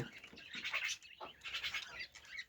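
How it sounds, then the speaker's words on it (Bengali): Quail chirp during morning feeding on a farm, with a few short, faint bursts of high twittering close by and brief pauses between them. "সকালবেলা এখন আমার কোয়েল পাখিগুলোকে খাবার দিতে হবে"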